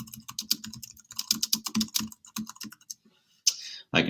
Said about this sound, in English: And I can type away.